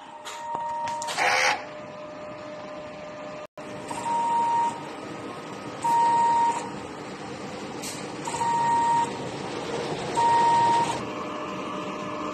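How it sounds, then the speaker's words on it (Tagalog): A DTF printer runs its print-head cleaning cycle: a steady mechanical hum with high beeping tones and whirring bursts that recur every couple of seconds, loud and close, with no talking. "punasan ng wiper pagkatapos mag-head clean, at nozzle check."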